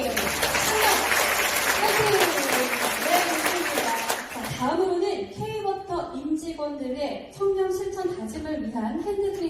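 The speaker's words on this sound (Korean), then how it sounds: "여러분들은 축하의 의미로 박수 보내주시면 감사하겠습니다" Celebratory applause from the audience at a corporate integrity ceremony, a dense burst of clapping for about four seconds that cuts off as a presenter starts speaking.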